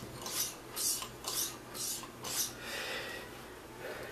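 A straight razor stroked diagonally across a leather strop, covering the full width of the blade, giving a steady series of soft rasping swipes, about six strokes in even rhythm, close up with no talk.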